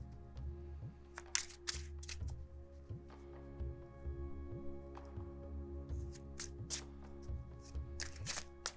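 Tarot and oracle cards being shuffled by hand, a run of soft papery riffles and flicks arriving in short irregular bursts, close and quiet against a low steady hum, with no voices.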